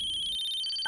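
A mobile phone ringtone sounds for an incoming call, a steady, bright electronic tone that repeats evenly and stays clear and close, with no talking over it.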